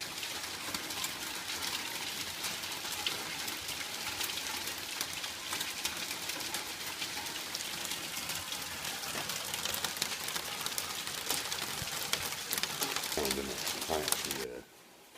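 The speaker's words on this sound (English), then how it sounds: "I quite like the sound of the rain." Steady hissing rain and hail patter hard on surfaces nearby, including a wheelie bin, dense and continuous, with faint bird cooing and brief voices in the background.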